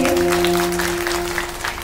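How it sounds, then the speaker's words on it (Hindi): Crowd clapping loudly together at a Bhagwat Katha religious gathering in Goradi, Bhagalpur; dense, sustained applause throughout, with a steady low drone of music or sound system underneath. "एक बार जोर से ताली बजाओ अपने लिए"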